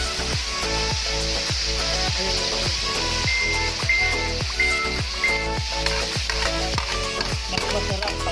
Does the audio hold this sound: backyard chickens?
no